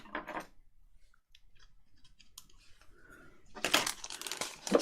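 Scissors cutting the end off material during free motion machine embroidery work, a few close, quiet snips and crinkles with a louder burst of cutting and rustling near the end, no speech.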